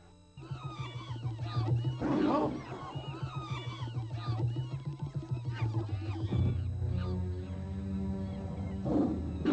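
A tiger in an animated film roars and growls in long, throbbing, pulsing bursts for several seconds, loud and close, with no speech over it.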